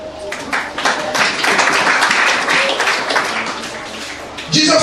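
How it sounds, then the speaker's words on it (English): Loud, dense applause from a church congregation during a Sunday sermon, steady clapping that fills the room for several seconds before fading into a new burst at the end. "Clap yourself."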